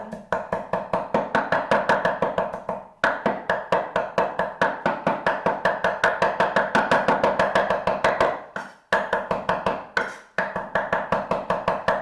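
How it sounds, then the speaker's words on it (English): Fresh garden parsley being chopped with a knife on a board, a steady rapid run of close, crisp chopping strokes with two brief pauses. "to chop the parsley into fine pieces"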